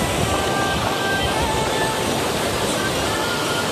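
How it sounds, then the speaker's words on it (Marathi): Floodwater rushes through a farm field after rain, a loud, continuous close roar of churning water with no break. "वरून येणारा जो काही पाण्याचा फ्लो आहे तर तो थेट आमच्या शेतामध्येच आहे"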